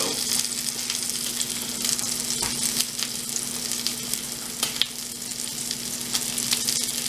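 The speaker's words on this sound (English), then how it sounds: "we're just going to have it sear off just enough to crust it" A coffee-crusted steak sears in a hot pan, giving a loud, continuous close sizzle and crackle with a low steady hum underneath and no talking.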